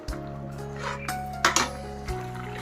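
A spoon stirring drumstick and spinach milk curry in a metal pot, giving a few close clinks and scrapes against the rim over a low steady hum, with no talk.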